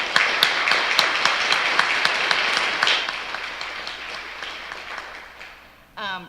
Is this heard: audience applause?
yes